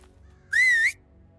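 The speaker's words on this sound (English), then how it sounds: "I can just whistle him to come to me." A single sustained whistle calls a horse in the medieval life-sim game Medieval Dynasty, a clear, loud tone with a slight wavering rise lasting about half a second, heard alone over quiet background ambience.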